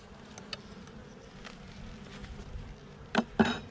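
Honey bees buzz around an open hive during an inspection: a close, steady hum with a couple of sharp knocks or clicks near the end, and no talking.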